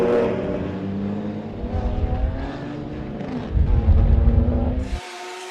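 BMW club race cars drag down a beach straight in close battle, engines roaring loud and steady with rising pitch as they accelerate, a second engine swelling in partway before the sound cuts off abruptly.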